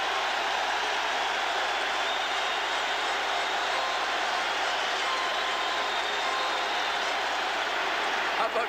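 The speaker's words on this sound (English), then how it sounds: "The crowd tells of the importance of this play." A packed stadium crowd roars without a break as the 1988 Chicago Bears face the Indianapolis Colts on a fourth-down quarterback sneak, a broad, steady wall of distant voices that neither rises nor falls.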